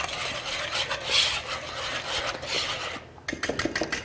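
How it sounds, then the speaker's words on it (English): A whisk scrapes rapidly around a bowl, mixing baking powder, baking soda and salt, giving a close, steady raspy rubbing that pauses briefly before resuming in short strokes. "my favorite tool for mixing dry ingredients, we're just going to whisk this all together"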